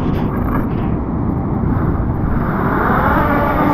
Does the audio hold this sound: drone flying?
yes